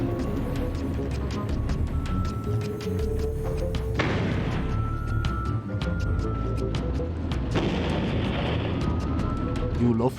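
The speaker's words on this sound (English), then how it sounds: "Explosions." Explosions in a Wallace and Gromit video game, repeated booming blasts and crackling bursts mixed with game music and effects, continuous and loud with a player talking over them.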